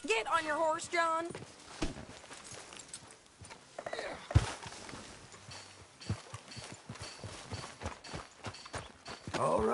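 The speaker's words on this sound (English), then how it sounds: "Get on your horse, John." Horse hooves clip-clop at a walking pace in Red Dead Redemption 2, a soft, irregular stream of hoof beats under frequent talking and a brief horse whinny.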